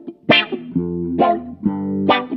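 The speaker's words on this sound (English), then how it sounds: "So we're going to click on the Qron and it's going to sound like this now." Electric guitar riff played through an Electro-Harmonix Nano Q-Tron envelope filter pedal on a pedalboard, three sharp plucked attacks each followed by a sustained, sweeping quacky tone, loud and close with no talking.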